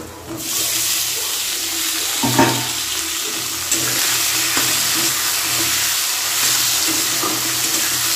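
Tomatoes fry in a pan with onions for a tomato fish curry, giving a continuous close hiss of sizzling oil with a few scraping stirs, steady and fairly loud with no talk.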